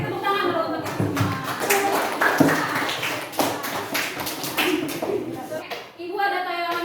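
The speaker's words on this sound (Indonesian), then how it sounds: "Oke, tepuk tangan dulu untuk kita semua." A classroom group claps together in a teacher's lesson, a dense patter of many hands that carries steadily for several seconds at moderate volume, with scattered children's voices, and the clapping thins out near the end.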